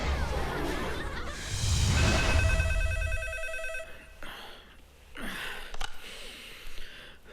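A telephone rings late at night in an Indian thriller film scene, a bright repeating electronic ring for a couple of seconds amid room noise, followed by quieter rustles and breaths.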